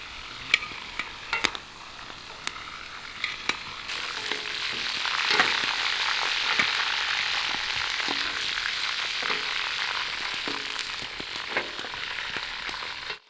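Meat fries in a pot for Uzbek plov with a broad, close sizzle that swells in the middle, and occasional ladle clicks and stirring knocks break through it. No one speaks.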